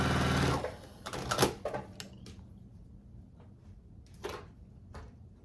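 Sewing machine stitching a quilt block, a short burst of motor whir at the start followed by a few faint clicks and handling taps, quiet and close with no talk.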